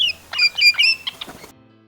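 A grey shrike-thrush sings a short phrase of clear, ringing whistled notes close by. The phrase ends abruptly and silence follows.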